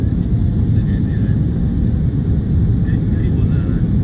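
A steady, loud rumble of an airliner accelerating down the runway and lifting off on a flight to Japan, heard from inside the cabin as a constant low roar throughout.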